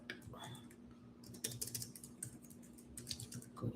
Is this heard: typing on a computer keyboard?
yes